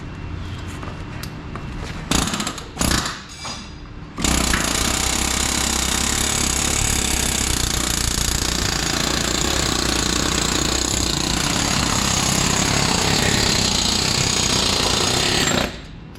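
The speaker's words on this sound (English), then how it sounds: "All right, air hammer. We're gonna push that pin right out on the other side." A pneumatic air hammer drives a pin out of a Cat D10R dozer during cab and hardnose removal, a loud continuous rattling hammering that starts after a few short bursts and runs steadily for about twelve seconds before stopping.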